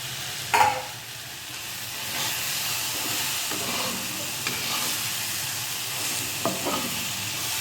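Fish heads frying and simmering with taro in a pan give off a steady sizzle and hiss, with a few sharp pops and the clatter of stirring near the start and toward the end.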